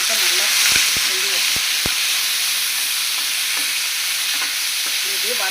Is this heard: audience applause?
no